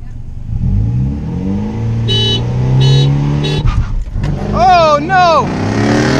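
Mitsubishi Evo X launching hard in a street race against a Jeep SRT8, engine revving and climbing through rising pitch sweeps, loud and close, with a driver exclaiming over the noise.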